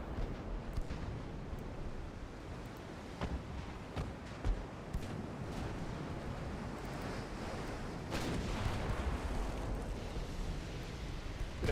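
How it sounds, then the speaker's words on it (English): Torpedo blasts hit ships during a naval battle in a Viking-themed video game, heard as low, rumbling booms and sharp thuds over a constant roar of surf-like noise, with a heavier swell near the end. "how many torpedo detonations can these little bastards have before they sink?"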